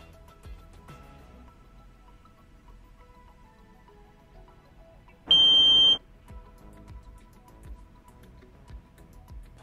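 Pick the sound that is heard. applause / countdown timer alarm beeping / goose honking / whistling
countdown timer alarm beeping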